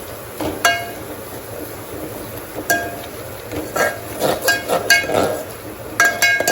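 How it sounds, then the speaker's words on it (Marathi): A spoon clinking against a metal pot while stirring spice tempering with garam masala, irregular light metallic taps close by, clustering more densely toward the end. "चला आता सगळी फोडणी मस्त मिक्स करून घेऊया"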